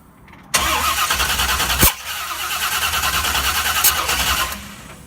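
A C1 Corvette with a 330 cubic inch small block and FiTech fuel injection cranks and catches with a sudden burst, then settles into a rough, uneven idle after a brief stumble.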